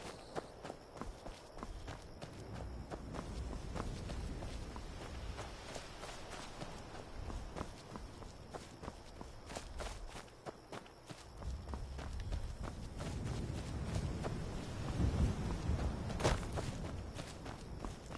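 Horse hooves clip-clopping in the Skyrim video game, a steady run of footfalls at moderate distance over continuous game ambience, swelling louder and denser toward the end.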